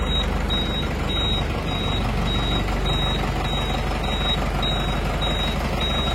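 A new Tata truck with hydraulics runs its engine in a deep, steady rumble while a high reversing beeper chirps at regular short intervals over it, loud and close.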